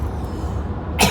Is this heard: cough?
yes